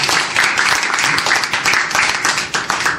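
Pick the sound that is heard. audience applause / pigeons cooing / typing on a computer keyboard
audience applause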